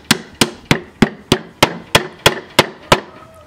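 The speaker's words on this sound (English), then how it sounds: "You take a hammer and you just" A hammer drives nails flush into wood while a table is being built: about ten loud, close, evenly spaced strikes, each a sharp crack with a short ringing tail, and no talking.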